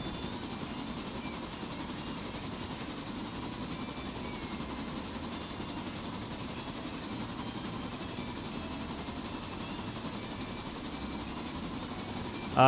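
A Lunar Locomotive Works Mikado locomotive in a modded Appalachian logging railroad video game gives a steady, continuous rumbling run with a faint rhythmic rail clatter. The sound is moderately loud and unbroken throughout, with no voices.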